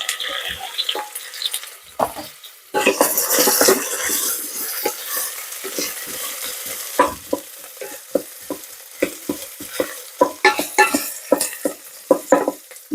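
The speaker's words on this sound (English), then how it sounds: "this is still on the saute function, or fry function, and we're just going in with them sausages" Sausages frying in the sauté mode of an Instant Pot Mini multi-cooker, giving a steady close sizzle with repeated scraping and stirring knocks against the pot throughout.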